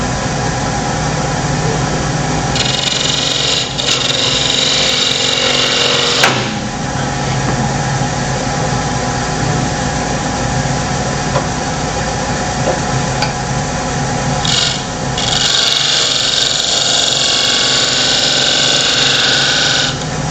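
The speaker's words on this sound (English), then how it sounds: "I'll just trim it a little bit using the skew" A skew chisel trims a straight-sided wooden box spinning on a wood lathe: a steady motor hum runs throughout, with two stretches of bright, hissing cutting noise near the start and again toward the end.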